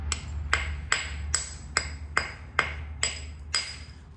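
Flakes are struck off a coral arrowhead during flintknapping: nine sharp, evenly spaced clicking knocks about half a second apart, close and fairly quiet, with no talking.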